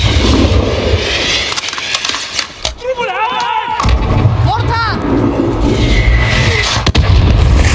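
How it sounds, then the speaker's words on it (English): Booming mortar blasts and heavy rumbling hit in Call of Duty Modern Warfare, loud and close, while voices shout over the barrage. "Oh my god, mortar!"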